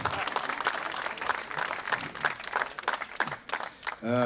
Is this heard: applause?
yes